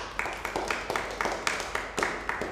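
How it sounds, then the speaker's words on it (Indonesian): A class claps for a student in a microteaching lesson, with a faint run of steady, evenly spaced claps in a roughly regular rhythm, fairly quiet and distant in the room. "Beri tepuk tangan untuk Zulfa"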